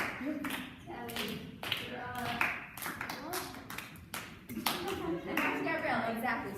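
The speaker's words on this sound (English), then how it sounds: "Just a nice clap all together." Ballet workshop children in New York City clap their hands together in a steady rhythm, sharp close claps repeating over several seconds while an instructor and kids talk over them.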